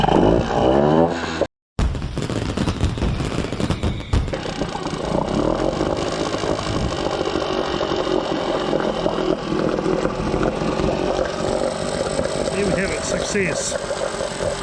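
A small engine on a boat's windlass setup starts with choke applied and settles into a rough, loud idle that runs steadily after a brief pause, with someone talking over it.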